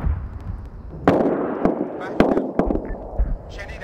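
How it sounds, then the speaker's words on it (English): Sharp explosive bangs and pops of rocket fire in an Operation Red Wings combat game, several bursts spaced about half a second apart over a dense rumbling wash of battle noise, with faint voices underneath. "Yeah, they're doing some rocket runs here."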